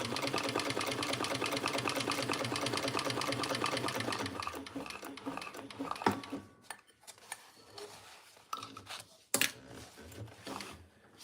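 A sewing machine stitches a box in a steady, continuous mechanical whir for about four seconds, then stops, leaving scattered clicks and handling knocks.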